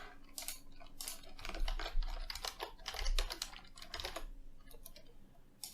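Fingers type a certificate name on a computer keyboard in a quick, irregular patter of close, crisp keystrokes with a few short pauses, and no voices.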